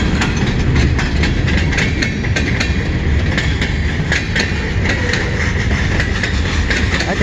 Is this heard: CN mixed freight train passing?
yes